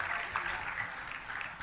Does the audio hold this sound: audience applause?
yes